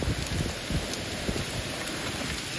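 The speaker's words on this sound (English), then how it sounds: "it just absolutely came a thunderstorm" Dense, heavy thunderstorm rain pours down steadily, a loud constant hiss with thick drumming patter close by; no voices.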